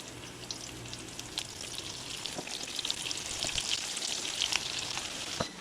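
Chips crackle and sizzle in very hot oil, a dense continuous frying hiss with scattered sharp pops, close and fairly loud.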